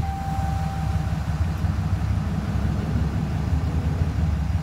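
A 2012 RAM 3500 Laramie long bed pickup with a Cummins diesel engine, its low rumble steady and close throughout, a heavy unbroken idle drone.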